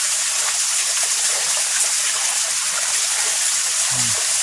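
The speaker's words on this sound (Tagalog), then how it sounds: "Pagtaas pa ng tubig," Water rushing steadily into a home-built fish pond, a continuous close hiss and gush with no breaks, alone and fairly loud throughout.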